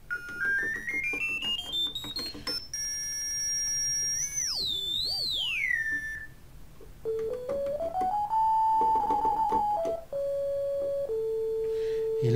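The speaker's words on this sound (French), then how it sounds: "on a une sinusoïde absolument parfaite" A Behringer Model D synthesizer, a Minimoog clone, plays pure sine tones that glide up and down in pitch, with sweeping chirps, held steady notes and stepped changes, loud and alone.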